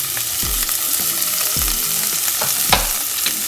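Drained onions and garlic sizzle loudly in olive oil alongside seared sirloin steak in a pan, a steady close frying hiss broken by a few stirring scrapes, with no talking.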